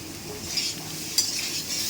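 Spices fry in a pan for a boal fish curry, a steady close sizzle with soft stirring and scraping throughout and a brief utensil clink.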